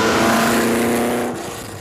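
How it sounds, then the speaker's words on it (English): Ford GT with a 560 horsepower engine accelerating hard, a loud, close, raspy engine roar with a rising tone that eases off near the end; no talking. "especially when you press the throttle. See? Lots of noise, lots of speed, 560 horsepower"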